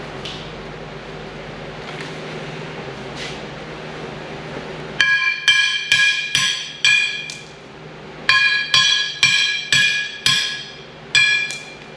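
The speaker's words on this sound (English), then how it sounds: "we'll press these uh, lug studs out and get the new ones in" Lug studs knocked out of a car axle on a workbench, sharp ringing metallic hammer strikes in quick clusters of three to five, loud and close, after a quieter stretch of workshop hum.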